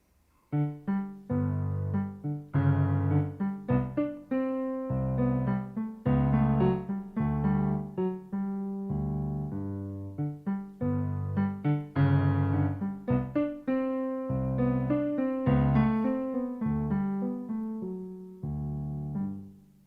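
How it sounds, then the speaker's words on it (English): Orchestral music depicting the cat from Prokofiev's Peter and the Wolf in an ensemble arrangement, a continuous melodic passage of short phrased notes at steady loudness, with no talking. "When you hear this, think of a sleek, stealthful cat"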